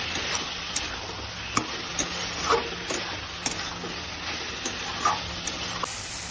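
Paneer and potato curry with sugar being sautéed in a pan, a steady close sizzle with regular scraping strokes of a spoon throughout.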